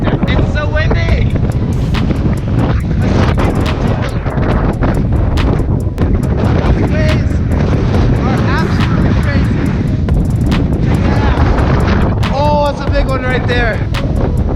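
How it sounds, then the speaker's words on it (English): Gale-force wind on the Great Ocean Road coast, roaring buffets and microphone rumble with waves crashing against rocks, loud and continuous, with voices shouting over it. "It's so windy!"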